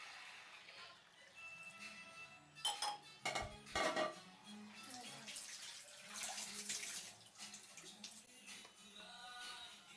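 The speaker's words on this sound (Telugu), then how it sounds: "తగినంత వాటర్ వేసుకుని" Water poured into a pot for spinach dal with green chillies, tomato and palak, a running splash with clattering of utensils and a burst of metal knocks midway, fairly faint in a kitchen.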